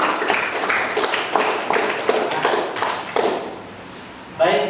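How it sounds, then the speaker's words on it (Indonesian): Students clapping in a classroom, a short burst of several sharp, uneven claps close by that fades out, followed by a teacher's voice starting to speak. "Beri tepuk tangan dulu."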